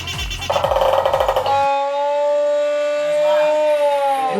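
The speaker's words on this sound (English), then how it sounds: "I like that it can be a warning siren or just a cow." A loud wailing tone from a musical instrument slides and sustains like a warning siren or a cow, following a short burst of rapid rhythmic pulsing.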